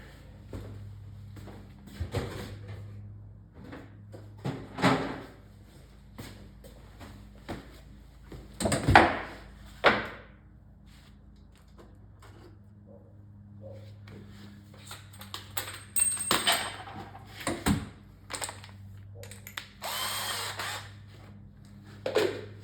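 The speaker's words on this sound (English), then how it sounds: "guess we'll drill this block out" A power drill works a drill bit into a block inside a Neo Geo arcade cabinet during teardown, with uneven whirring bursts, rattles and clunks of handling throughout, close and moderately loud.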